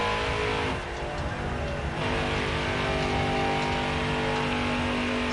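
Race cars circulating during a race in Las Vegas: a loud, steady engine roar that continues throughout with a slight dip and no pauses, and no voices over it.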